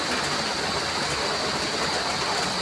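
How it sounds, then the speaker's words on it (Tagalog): Rain and wind on a stormy day: a dense, steady hiss of rainfall with a broad gusting roar, continuous and fairly loud throughout, with no voices. "Hinintay namin na baka na lumakas ang ulan at yung hangin."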